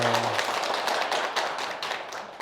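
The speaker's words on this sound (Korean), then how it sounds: "왜 갑자기 박수?" Scattered clapping from a temple audience listening to a Buddhist monk's talk, a moderate, even patter of hands continuing throughout after a brief low hum at the start.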